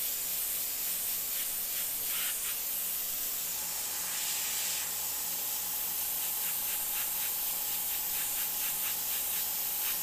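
An airbrush sprays blue paint in a steady, close, broadband hiss that runs for the whole span, with short pulsed bursts of spray layered over it and no talking.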